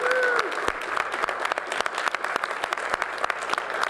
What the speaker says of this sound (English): why don't we take this opportunity for you to applaud and cheer for whatever your point of view may be